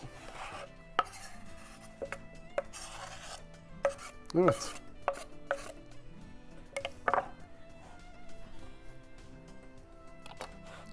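A knife chops cucumbers on a board for a salad in irregular taps and thuds, some louder than others, with a brief spoken word partway through.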